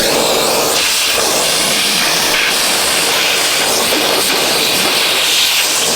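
A shop vac vacuums out a 2013 Ford Transit Connect van, a loud, continuous high-pitched hissing whoosh of suction airflow that holds steady and close throughout, with no talk.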